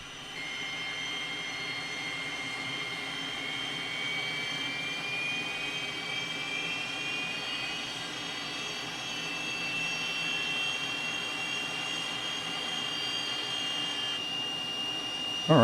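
T-37 Tweet jet engine spooling up during startup in a flight simulator game, a steady whine with a slowly rising high tone over a broad rumble, continuous and fairly loud for the whole stretch.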